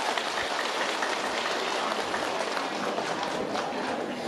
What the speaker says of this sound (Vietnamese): Thưa quý vị, cho một tràng pháo tay.